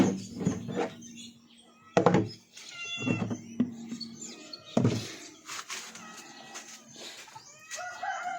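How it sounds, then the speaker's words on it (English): A cat meows repeatedly on a farm with pigs and chickens, several distinct calls spread across the stretch, while hens cluck and cackle in the background. "there's the cat."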